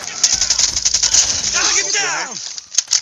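Kilo 141 assault rifle gunfire in Call of Duty Mobile, a loud rapid automatic burst with echoing tails and a few separate shots at the end, heard alone with no talking.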